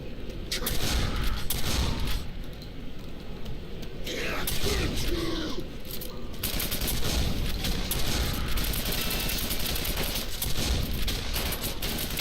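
Quake 4 gunfire rattles in rapid bursts almost nonstop, a loud clattering of automatic shots with mechanical clicks mixed in and a voice speaking over it.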